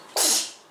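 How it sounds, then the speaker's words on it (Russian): A single sharp, loud human sneeze bursts out close by, then fades quickly into quiet room tone. "Будь здоров."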